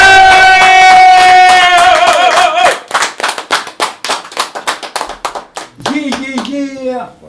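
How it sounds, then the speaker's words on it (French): Studio applause breaks out to welcome the guest Monsieur Solo on the Get Down Radio Show in Dunkerque. It opens as a dense, loud burst of clapping, thins into separate sharp claps and taps, and voices rise near the end. "Applaudissements s'il vous plaît."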